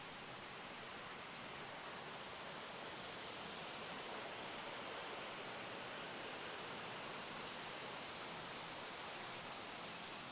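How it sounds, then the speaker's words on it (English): A dense, steady roar of falling water fills the whole stretch, constant and unbroken with no voices. "And let's only focus on the waterfall"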